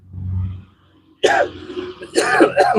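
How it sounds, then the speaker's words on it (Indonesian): A person gives dry coughs, a low muffled rumble first and then sharp, harsh bursts after a short pause, close and fairly loud. "batuk-batuk kering"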